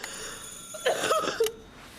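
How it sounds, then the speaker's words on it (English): A concierge buzzer in a video game is pressed twice, giving two short electronic ring-like tones close up over a faint hum. "They examine a buzzer and press the button for concierge"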